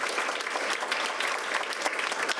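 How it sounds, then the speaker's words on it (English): A ceremony audience claps steadily and densely throughout, loud and close, with no pauses and no voices rising above it. "Level 5 achievement, that deserves a round of applause."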